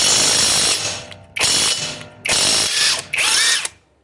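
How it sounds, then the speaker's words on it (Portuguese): A cordless electric impact wrench loosens the wheel nuts on a Toyota Etios. It fires four loud, close rattling bursts, each lasting about half a second to a second, with short pauses between them. "chave pneu de impacto elétrica com bateria?"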